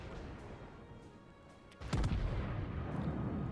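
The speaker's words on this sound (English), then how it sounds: "Some nice sequential fire." Battleship main guns firing in World of Warships: a sudden loud booming blast, then a sustained rumbling roar over continuous background game noise.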